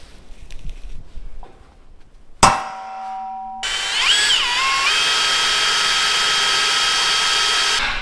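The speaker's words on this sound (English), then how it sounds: "using a step drill" A power drill whines steadily as a step drill bites into a metal frame on an ex-army fire truck, with a sharp clang beforehand; the grinding drilling runs loud and continuous for several seconds.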